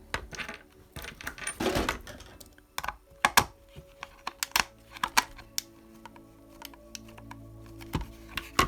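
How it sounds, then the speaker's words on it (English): A screwdriver turns a tapping screw into hard plastic parts of a Tamiya BIGWIG 2025 radio-controlled car, close-up with irregular clicks, ratcheting ticks and small knocks spread over several seconds. "We need to attach this with our screwdriver."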